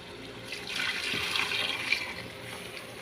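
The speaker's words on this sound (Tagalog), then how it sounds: "Lagyan na natin siya ng tubig guys" Water pours into a pan of chicken cooking on the stove, a soft splashing rush lasting a few seconds at moderate volume, with no voices.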